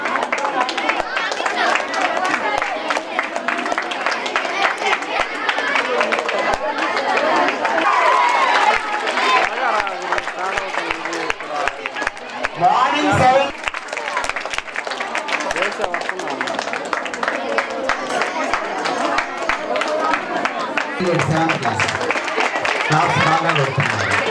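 A crowd of students and parents at a school celebration of tenth-grade exam results in Ongole claps loudly and steadily for the parents for over twenty seconds. Voices and chatter run underneath the applause.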